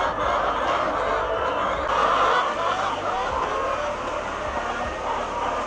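Hens clucking in a crowded laying house, a dense continuous chorus of murmuring clucks and calls over a steady hum, with no single bird standing out.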